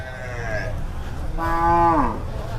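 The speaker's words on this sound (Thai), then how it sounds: "นี่คือตลาดนัดวัวควาย" Cattle and buffalo at an open-air livestock market at Tung Fah Bod in San Pa Tong, Thailand: a fainter moo is followed by a long, loud, close bellowing moo, over a steady background murmur of the market crowd.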